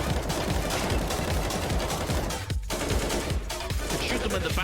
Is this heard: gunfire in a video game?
yes